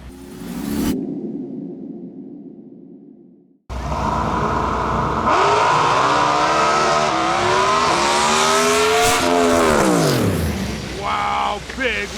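Drag racing cars launching down the strip at a Lights Out 17 qualifying round, a loud roaring engine pass with rising and falling whine and whooshing tires, preceded by a quieter idle and a brief cut, with an announcer talking over it.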